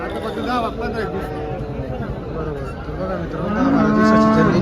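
People talk amid background chatter at a cattle market in Dhule, then a cow moos loudly and at length near the end.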